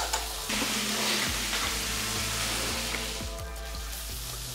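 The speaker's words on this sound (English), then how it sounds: "now that's been sauteing for a bit" A pan of food sautés on the stove with Brussels sprouts about to go in, giving a steady close sizzle with faint stirring scrapes.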